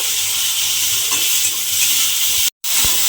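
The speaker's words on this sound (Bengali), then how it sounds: "নুনটা দিয়ে আবারও কিন্তু আলুটা আরেকটু ভেজে নেব।" Potatoes frying in a pan after salt is added, a loud, close, continuous sizzle with stirring scrapes, briefly cutting out near the end.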